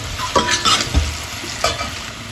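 A spoon scrapes and stirs turmeric through onions frying in a pot for vegetable sambar, with several distinct scraping strokes over a steady close sizzle.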